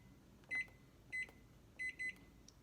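A kitchen timer gives four short electronic beeps in an irregular pattern while it is set, faint and thin over a quiet room, with no talking.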